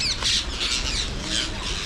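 Parrots squawk continuously and loudly at a busy parrot house, harsh overlapping calls forming a dense, unbroken din.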